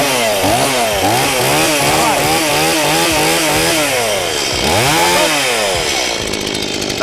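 A STIHL chainsaw runs loud and close, its engine revving up and down repeatedly in rising and falling surges, with no talk over it.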